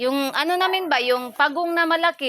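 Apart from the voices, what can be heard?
No everyday noises stand out.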